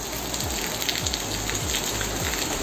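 Steady rain falls during a heavy downpour, a constant close hiss of drops with low thuds from drips landing on a surface, no voices.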